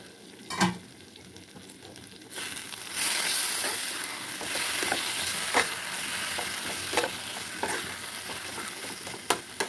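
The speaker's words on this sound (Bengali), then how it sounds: "মশলাটা আমার ভালো করে কষে নিয়েছি ঠিক এইভাবে" Spice paste frying in a pan, a sizzle that grows louder partway through, with repeated spoon scrapes and knocks as the paste is stirred.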